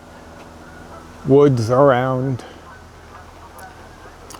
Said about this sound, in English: there's some geese. I don't know if you can hear them crying out over there.